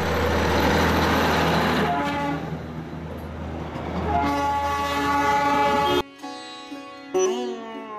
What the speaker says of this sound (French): nous croisons le train sur voie étroite qui relie depuis 1881 Siliguri à Darjeeling